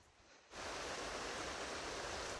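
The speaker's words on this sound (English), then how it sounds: "I am at a waterfall called Svanidze" The Svanidze waterfall in Russia's Krasnodar region roars in as a dense, loud wash of falling water that cuts in abruptly after a brief quieter moment and then stays steady.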